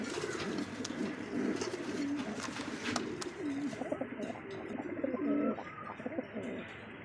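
Several pigeons, including a black Maltese pigeon, coo in low, soft repeated phrases, close by and overlapping, against a faint background hum.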